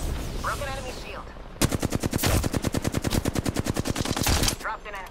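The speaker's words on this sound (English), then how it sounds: "I'm getting shot. By an enemy. Shooting. Taking fire!" Automatic weapon fire in the Apex Legends shooter game, a loud, sustained rapid burst of evenly spaced shots lasting about three seconds, with brief voice sounds just before and after.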